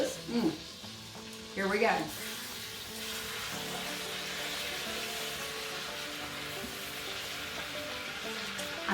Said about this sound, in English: sear this meat on all sides